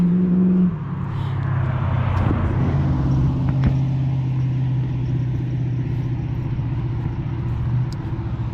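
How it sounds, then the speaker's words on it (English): An older 5-liter Fox body Ford Mustang passes on a street at night, a low engine rumble that swells briefly and then fades into steady background road noise, heard outdoors from the roadside. "Big 5-liter older Mustang, Fox body, I believe it's called. Just went by, that sounded good."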